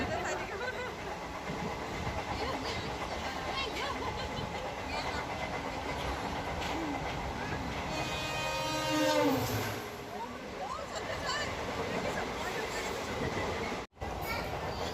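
A passenger train runs steadily with a constant rumble and rattle of the coach, heard from inside, with a brief rising squeal of wheels midway and people talking in the background.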